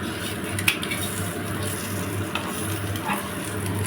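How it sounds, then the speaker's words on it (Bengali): An egg frying in a pan in a home kitchen, a steady close sizzle with a few light clinks of a utensil against the pan and no voices. "তো এখন আমি ডিমের পোচটা করে দিচ্ছি"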